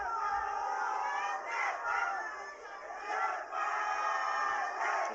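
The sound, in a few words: crowd cheering at Nepal vs India women's match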